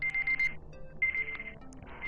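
Alarm rings in repeated short electronic bursts, a steady high beeping pattern with pauses, faint and somewhat distant amid quiet room sound.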